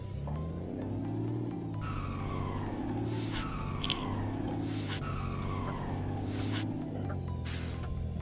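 A bus engine in Euro Truck Simulator 2 drones with a deep, loud, continuous roar, its pitch rising and falling in waves, while sharp hiss-like bursts cut in at intervals.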